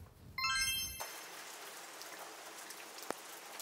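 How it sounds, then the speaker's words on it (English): Heavy all-day rain falls steadily as a constant hiss, preceded by a brief ringing chime at the start and a single sharp click partway through. "It is really raining today. Not just like spitting rain."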